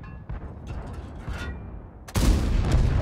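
A tank gun fires a single loud, sharp blast in a tank video game as a TS-5 engages an AT-7 tank destroyer side-on, coming in abruptly after a stretch of low rumbling engine noise and then rolling on in a heavy, sustained boom.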